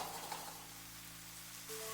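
Seafood mushrooms and beaten egg fry in a hot oiled pan, giving a steady, close sizzling hiss that holds evenly throughout with no voices.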